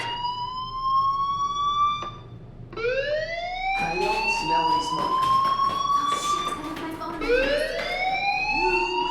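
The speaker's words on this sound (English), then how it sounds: "Hey, do you hear that fire alarm?" Fire alarm wailing inside a school in the video game Life is Strange, a loud rising-and-falling siren tone that repeats in long sweeps, with voices talking faintly beneath it.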